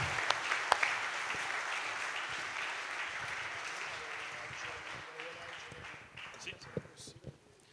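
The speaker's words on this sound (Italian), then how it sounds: "Facciamo un applauso." Applause at an Italian Air Force brigade honorary-citizenship ceremony in Pisa, a crowd clapping loudly and steadily before it thins out and fades into scattered claps toward the end.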